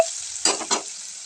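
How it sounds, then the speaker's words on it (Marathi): Fenugreek greens and moong dal being sautéed in a pan give a steady soft sizzle with two quick stirring scrapes, with no one talking. "तर आपल्याला ते सगळं व्यवस्थित परतून घ्यायचंय।"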